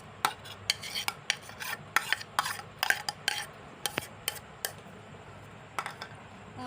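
Chopped tomato being stirred into pakoras in a pan, a series of close, rhythmic scraping strokes of a utensil against the pan, irregularly spaced over a faint background.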